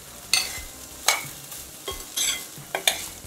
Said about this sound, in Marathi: आता हे आपल्याला थोडा छान भाजून घ्यायचं आहे.